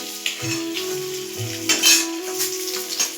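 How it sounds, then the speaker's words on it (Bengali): Small puti fish sizzle and crackle in hot oil, with a few metallic clinks and scrapes from a utensil in the pan. "মাছটাকে লাল লাল করে ভাজতে হবে"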